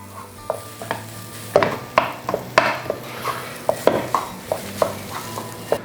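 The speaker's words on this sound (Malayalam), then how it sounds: "നന്നായിട്ടൊന്ന് മിക്സ് ചെയ്യാം" Beef cutlet masala stirred in a pan with a spatula, giving a regular run of scraping, clattering strokes over a soft background sizzle, close and fairly loud.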